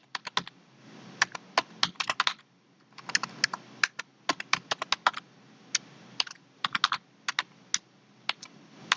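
Code being typed on a computer keyboard: clusters of sharp, close key clicks arrive in quick bursts separated by short pauses, heard alone with no talk over them.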